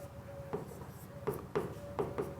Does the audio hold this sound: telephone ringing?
no